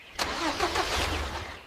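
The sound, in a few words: cartoon tractor engine starting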